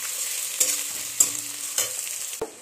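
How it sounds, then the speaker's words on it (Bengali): Chopped garlic fries in oil with onions in a pan, a soft steady sizzle broken by a few sharp scraping stirs of a spatula, close up and with no voices. "রসুনটাও একটু ভাজা ভাজা করে নেব।"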